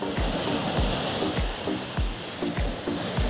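Ocean waves wash onto a beach, a broad steady surf roar with repeated low thumps as water breaks and rushes in, close and continuous with no voices.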